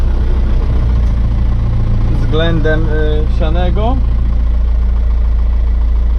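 A tractor engine idles steadily at close range throughout during a Hydrasystem navigation test, a continuous low drone with someone talking over it for part of the time.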